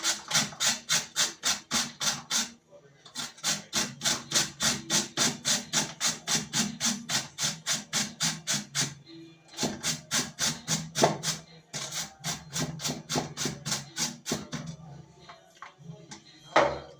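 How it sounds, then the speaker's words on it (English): Carrots being grated by hand on a grater in a home kitchen, a close, rhythmic scraping of quick evenly spaced strokes with short pauses between runs. "I go grate my carrot"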